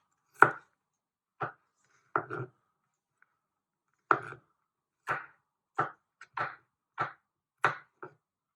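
A knife slices crushed garlic into small pieces on a cutting board, making about eleven sharp, separate chops at an uneven pace, close and clear against silence.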